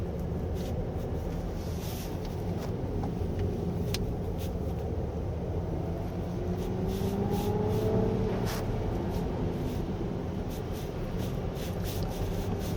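A 2023 Mercedes-Benz EQE350 Plus rear-wheel-drive electric sedan cruises on a rain-soaked winding road, with a steady hiss of tires on wet asphalt, a low road rumble, and faint ticks and splashes throughout.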